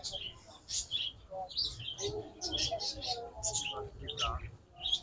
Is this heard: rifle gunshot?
no